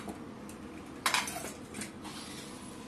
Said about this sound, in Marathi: आता आपण कुकर उघडून बघूया आपली कैरी शिजली आहे की नाही ते.